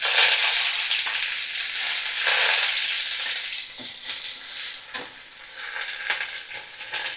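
Chopped onion dropped into hot oil for a dal dish, a loud bright sizzle that gradually settles, with a few stirring clicks and scrapes, close up and without talk.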